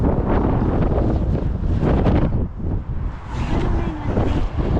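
Strong wind buffets the microphone in heavy, low roaring gusts that swell and ease, loud and close, with a voice faintly underneath.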